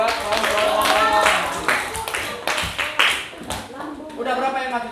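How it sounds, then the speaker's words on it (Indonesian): A classroom of students claps for classmates presenting in a biology lesson on the respiratory system; brief bursts of clapping mixed with children's voices and talk throughout. "Tepuk tangan buat kawan-kawan."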